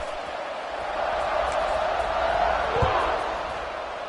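A stadium crowd roars during a Pac-12 college football video game, a broad, sustained cheer that swells toward the middle and then eases slightly, with a faint thud near the end.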